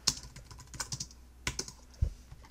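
Keys clack on a computer keyboard in a few short bursts of typing, close and clear, with no talking.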